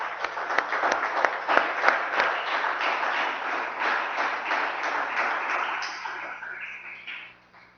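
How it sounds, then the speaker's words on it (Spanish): Church congregation applauding during a Sunday morning Spanish-language worship service, dense steady clapping that swells early, holds, then tapers and fades out at the end, with a low hum underneath. "Damos un aplauso al Espíritu de Dios en esta mañana."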